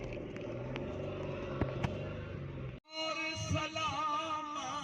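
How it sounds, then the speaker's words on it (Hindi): A car driving on a road under construction, heard from inside as a steady low engine and road rumble, with a brief dip before the sound resumes and continues evenly. "तो लें जी, गाड़ी मैंने बैक कर लिया। तो अब उधर जाने लगे हैं"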